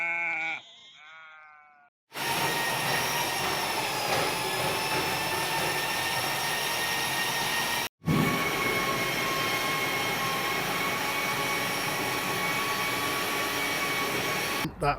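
Electric drain auger whirring as it clears a blocked toilet in a scout hall, a continuous loud grinding whine with squealing overtones, briefly cut off and then resuming.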